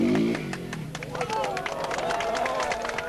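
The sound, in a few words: spectators applauding at trial motorcycle event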